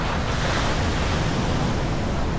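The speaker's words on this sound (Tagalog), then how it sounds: "Yun yung dagat niya. Low tide ngayon guys" Ocean surf at low tide on the Bali shore rushes in a steady, broad wash, close and continuous with no voices.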